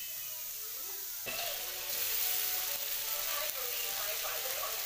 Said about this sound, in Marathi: आता पहिल्यांदा आपण कांदा जरा मस्तपैकी लालसर असा भाजून घेऊ.